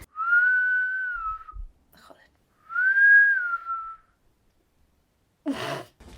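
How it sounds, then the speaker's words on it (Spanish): A person whistles two sustained, gently wavering notes separated by a pause, followed by a breathy exhale at the end. "El silbido que oímos"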